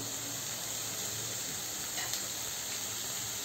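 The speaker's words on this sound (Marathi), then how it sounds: "हे सगळं परतत असतानाच आता त्यामध्ये आपण थोडा 1 टोमॅटो चिरला आहे तो पण घालूया।" Chopped tomato and vegetables sautéing in a hot pan for bharit, a soft, even sizzle and hiss throughout with a faint stirring scrape midway, no talking.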